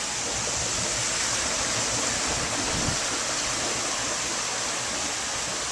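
A van ploughs through a deeply flooded street during Hurricane Irene in 2011, producing a continuous loud rushing, churning wash of water that stays steady throughout.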